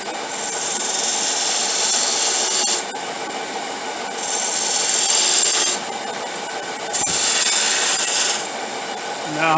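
Loud, steady scraping hiss of a straight turning tool cutting into a small wooden box spinning on a lathe, coming in three sustained passes with brief quieter gaps between them.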